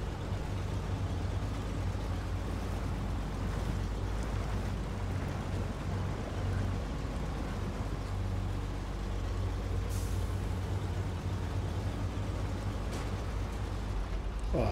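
Western Star 6900 twinsteer truck in the SnowRunner video game, a steady low diesel engine drone rumbling continuously and close throughout, with a brief hiss partway through.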